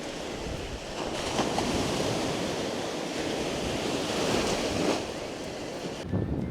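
Surf breaking steadily on a huge sandy beach on the Hel Peninsula, a continuous wash of waves with wind buffeting the microphone, loud and close, no voices.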